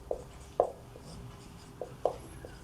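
Pen writing out a matrix problem on paper, a few soft scratchy strokes in uneven bursts, close and quiet with no talking.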